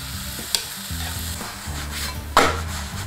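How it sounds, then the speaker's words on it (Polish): Banana pancake batter poured into a hot frying pan, loud steady sizzling and frying right up close with a couple of sharp clinks from the pan, no voices. "Teraz na patelnię wlewam ciasto."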